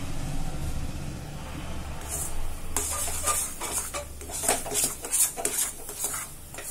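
Thick banana, semolina and jaggery filling is stirred in a pan, with scraping and clinking strokes that grow busier partway through, sounding close over a low background hum.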